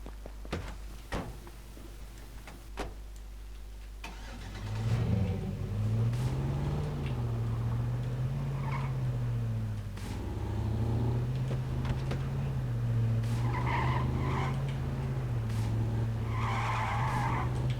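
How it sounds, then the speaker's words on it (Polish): Vehicle in the survival game H1Z1 starting off after a few knocks and clicks, then driving with a droning engine and repeated wavering tire skids and slides, fairly close and steady for most of the stretch. "Gdzieś Auto słyszałem."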